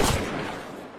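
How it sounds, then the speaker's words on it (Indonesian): A single gunshot from the film The Prey, a sharp blast that fades out over about a second with no other sound. "Claire muncul dan langsung menembak jatuh Jian."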